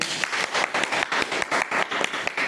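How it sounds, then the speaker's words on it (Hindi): A large audience applauds loudly and steadily at the close of a Hindi-language talk, dense overlapping claps filling the room with no voice over them. "एक जोरदार ताली होनी चाहिए"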